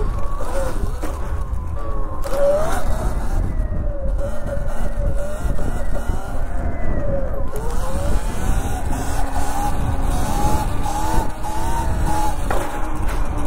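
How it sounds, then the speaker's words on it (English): A Sur-Ron electric dirt bike pulls a power wheelie while riding past a dam, its motor whining steadily and rising in pitch over loud, continuous wind and road rumble, with no talking. "Little power wheelie seat stander right there."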